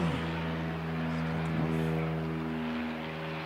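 A light aircraft takes off at the Canterbury Aero Club, its engine giving a steady droning hum with a strong tonal buzz, heard from a moderate distance.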